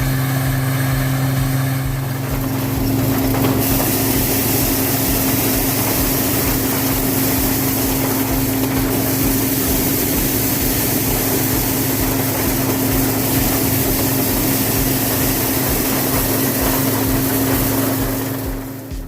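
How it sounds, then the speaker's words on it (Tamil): A tractor-driven maize thresher runs steadily through a corn harvest, beating heaped cobs so kernels separate from husks and stalks; a loud, continuous droning engine hum with a steady mechanical whir, no talking. "நம்ம அறுவடை பண்ணி குமிச்சு வச்சிருக்கிற மக்காச்சோள கதிர்களை எல்லாத்தையும் அடிக்கிறதுக்காக இன்னைக்கு வண்டி வந்திருக்குது."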